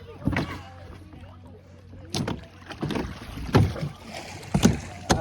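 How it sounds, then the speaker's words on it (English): A canoe is dragged back over rocks, giving several loud, uneven scraping knocks and thumps of hull against stone, close by, with quieter shuffling between them. "All of a sudden, you got to pull the canoe back."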